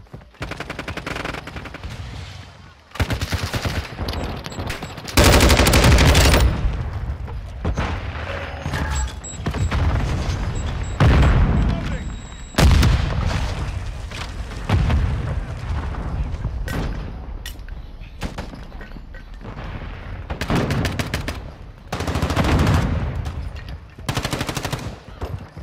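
Call of Duty Modern Warfare II Hardpoint match on the Mercado Las Almas map: loud bursts of automatic gunfire and single shots come in repeated volleys, with brief quiet gaps between rapid strings of shots.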